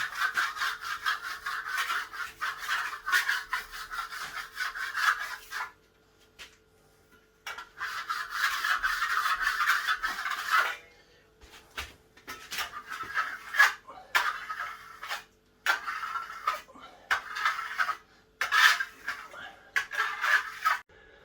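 A decorative patriotic flag craft piece being rubbed with polish before waxing, giving repeated scratchy back-and-forth strokes in bursts with short pauses, close and fairly loud.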